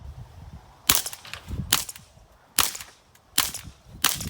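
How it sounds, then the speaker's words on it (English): Suppressed CCI Semi-Auto rimfire rounds fired from a Ruger 10/22 takedown, heard from downrange: five sharp, cracking reports at irregular intervals, each a loud snap with a quick decay over quiet outdoor background. "see what this CCI Semi-Auto sounds like suppressed out of a 10-22 takedown"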